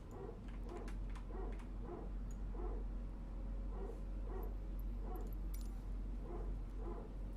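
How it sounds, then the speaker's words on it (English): Airbus A320 power transfer unit in a flight simulator, a repeating low barking drone pulsing about twice a second, steady and moderately loud over constant engine rumble, with faint higher clicks near the end. "The PTU will take over and power it, but then it runs the whole time and it wears it out and it creates that barking dog noise in the cabin."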